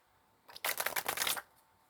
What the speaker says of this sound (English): just going to quickly shuffle here